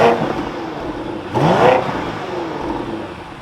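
A 2025 BMW X7 M60i SUV's engine fires up with a quick rising rev burst, then settles into a steady mid-pitched idle, recorded close and loud with no talking.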